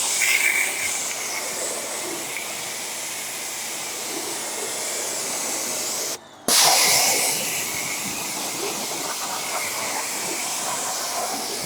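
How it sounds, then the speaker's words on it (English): A water hose rinses a car wheel and up into the wheel wells, a steady broadband spray hiss running the whole time with one brief break partway through. "we start that by rinsing the wheel off. So give it a nice rinse."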